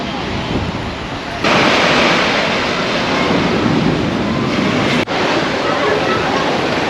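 Steady roaring surf of Pacific Ocean waves on the beach at Paracas, Peru, loud and continuous, swelling slightly after the first second, with heavy wind rumble on the microphone.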